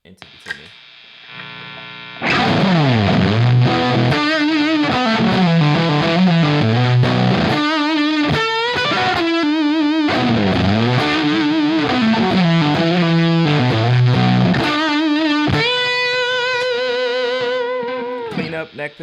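Saturated electric guitar through a Creepy Fingers fuzz cranked full into a Timmy overdrive, a loud sustained fuzzy tone playing continuous bending riffs alone after a quiet start, with faint hum underneath.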